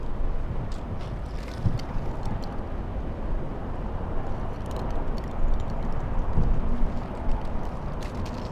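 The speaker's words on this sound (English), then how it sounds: "Just now the wind picking up." Wind picking up outdoors at Los Angeles International Airport, a steady, broad rush buffeting the microphone, swelling a little toward the middle with faint clicks and distant rumble throughout.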